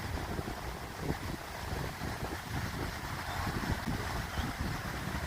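Steady wind buffets the microphone at Fort Lauderdale Beach on a blustery day, with a constant low rumble and gusty roar, broadband and unbroken throughout, with no voices.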